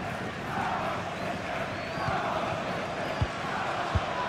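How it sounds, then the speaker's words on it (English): A stadium crowd roars steadily through a Real Madrid vs Manchester City Champions League match in the FC 23 video game, a dense continuous cheer with a few soft thumps, under a commentator's voice. "Being egged on by the crowd."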